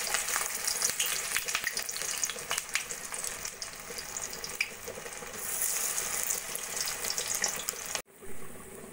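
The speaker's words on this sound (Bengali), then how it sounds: "একইভাবে বাকি আলু টিকিগুলো ভেজে নেব।" Potato tikki fry in a pan of oil with a dense, continuous crackling sizzle and scattered pops, close up and with no voices, briefly cutting off near the end before resuming.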